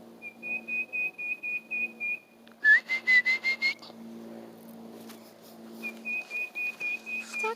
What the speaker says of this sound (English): Like whistling, like a whistle, like to get your attention or call a dog type thing.